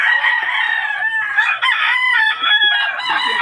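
Fighting roosters on a farm crow loudly and repeatedly, several birds overlapping in a dense, continuous chorus close by, with a few clucks mixed in and no talk.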